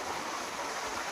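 A river flowing along the Appalachian Trail gives a steady, full rush of moving water, continuous and fairly close, with no voices.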